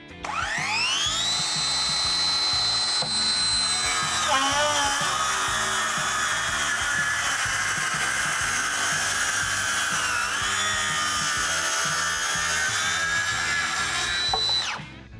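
Procraft PCA24 cordless brushless circular saw cutting through a wooden board: a loud, high motor whine spins up, dips briefly as the blade bites, holds steady for about ten seconds, then winds down.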